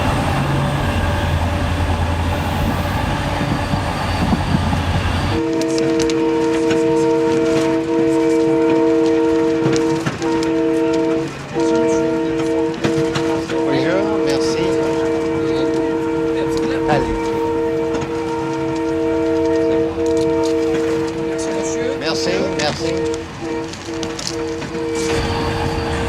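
A passenger train in the Sahara rumbles steadily along the rails, with strong sustained tonal hums and rattling carriage noise throughout, some faint voices underneath.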